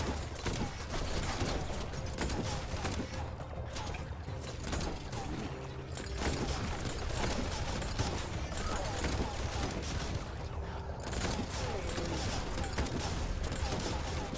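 Bouncy bullets fire in the video game Biomutant as a dense, continuous barrage of rapid gunfire and ricocheting mechanical clatter, loud and unbroken for about fourteen seconds.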